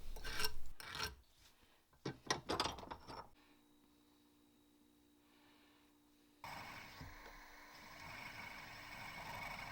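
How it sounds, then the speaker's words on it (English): A hand file scrapes across the edge of a steel sheet in a few quick bursts of rasping strokes, followed by a quiet pause with a faint hum and then a steady low noise. "I make quick work of the excess steel with some filing."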